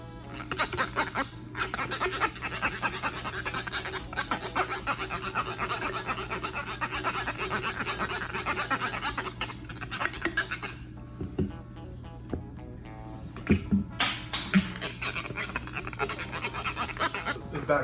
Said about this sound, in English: And then we just take here and we just scrub the insides